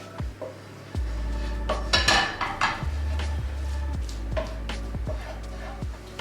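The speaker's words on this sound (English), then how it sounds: "you're just going to stir in tomato puree into your onions and garlic and all of those spices" Tomato puree being stirred into onions, garlic and spices in a pan, heard as repeated metallic scrapes and clanks of a utensil against cookware, loud and steady, with no talking.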